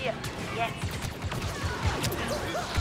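Gunfire erupts from all sides during a Star Wars Battlefront 2 battle on Endor: dense, continuous blaster and gun shots with crashes in a busy game mix, with voices heard under the action.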